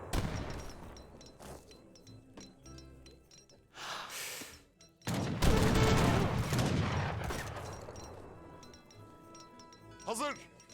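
Musket volley from skirmishers in Age of Empires 3, a dense crackling burst of many gunshots firing together amid ongoing battle noise, with a commentator talking over the clatter and clinks of combat.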